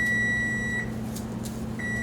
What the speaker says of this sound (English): there's our cookie timer